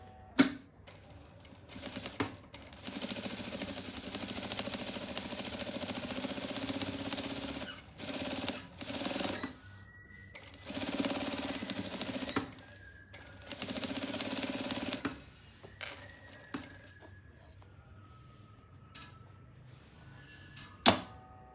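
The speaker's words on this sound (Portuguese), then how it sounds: "E agora vou tombar ela e vou fazer uma costura" A sewing machine stitching the seam of a patchwork pouch, running in several bursts of a few seconds each with short pauses and a final clack.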